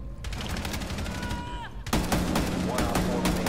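Rapid gunfire from a wall-bang in the video game Rainbow Six Siege, a dense burst of shots ringing through a wall, louder in the second half, with in-game ambience throughout.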